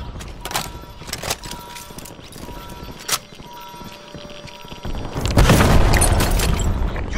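A dirty bomb detonates in the online shooter Dirty Bomb, preceded by scattered sharp in-game impacts and pops, then a loud, sustained booming blast swelling near the end.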